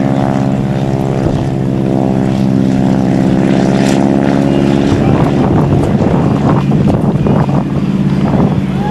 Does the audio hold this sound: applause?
no